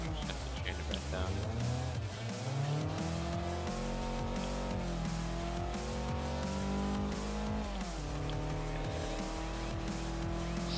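A stock car slides through a corner in a drift, its tires squealing over a steady, droning engine that rises and falls with throttle, close and continuous while someone talks over it.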